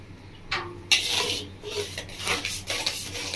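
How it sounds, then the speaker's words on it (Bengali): Spoon scraping and rubbing around a pot of thick mango kheer with cashews, a rasping stir that repeats in uneven strokes, close and moderately loud, with no talking. "এইভাবেই নাড়তে থাকবো।"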